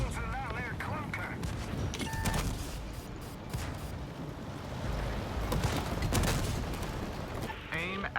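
Video-game gunfire at an enemy vehicle, a run-down clunker, rattles out in dense, rapid bursts almost without pause, with heavy booming hits and brief electronic tones mixed in.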